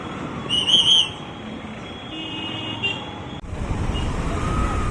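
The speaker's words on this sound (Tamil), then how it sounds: "ஸோ டிராஃபிக் ஃபுல்லாக இருக்குது இங்கே." Heavy road traffic in Singanallur, with a steady roar of passing vehicles, a brief whistle-like toot early on, and a louder close wash of traffic in the later part.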